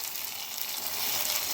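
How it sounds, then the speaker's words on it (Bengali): Chopped onions, garlic, tomato and chili fry in oil as a steady, crackling sizzle for a paneer dish, close and continuous with no voices. "ভালো করে এটাকে এবার ভালো করে ভেজে নিতে হবে মশলাটা"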